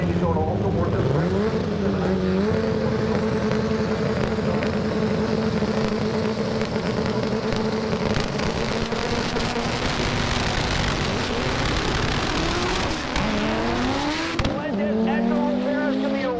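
Drag racing car roaring down the track on a pass, a loud sustained engine drone with rising pitch at launch and again near the end, under crowd and announcer noise.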